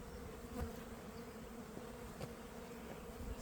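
Honeybees buzz around a beehive that has been moved 421 meters, a faint steady drone of many wings with a few louder passes of individual bees close by.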